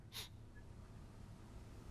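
A Witcher 3 character gives one short, sharp sniff near the start, fairly faint against a low, quiet game background.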